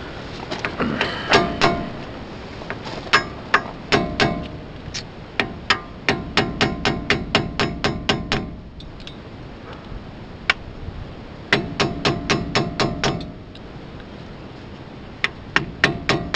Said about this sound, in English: We've got to get this dust cap off so we can get to the screw and get this rotor off.